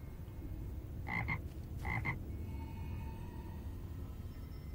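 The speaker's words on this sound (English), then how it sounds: "And he croaks" A pet pond frog croaks in Lord of the Rings Online, giving two distinct croaks close together over a soft background hum with no talk.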